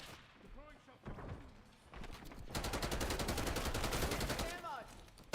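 Shotgun firing in a video game, a string of loud close blasts, sparse at first then dense and rapid, mixed with in-game voices and combat noise.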